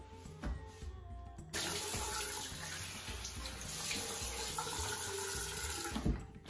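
A tap runs steadily into a sink while someone rinses their face, a close rushing stream of water starting after a brief click, with light splashes and no talking.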